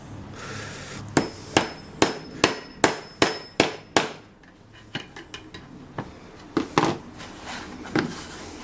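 A metal nut is hammered into a hole to make a small handle for a table saw clamp, with a quick series of about eight sharp ringing metal strikes, then slower, softer taps, close and with no talk.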